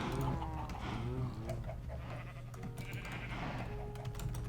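Cows lowing in the Minecraft modpack Agrarian Skies, several overlapping animal calls over a steady game background, moderately loud and continuous, with no talk.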